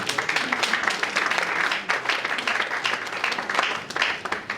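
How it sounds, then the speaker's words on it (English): A crowd at a Ghana Musicians Union inauguration of presidential and Greater Accra regional executives breaks into steady, dense applause that fills the room for several seconds, with scattered voices mixed into the clapping. "So please, a big round of applause for them."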